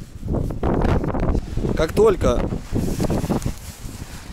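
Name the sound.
strong wind blowing into the microphone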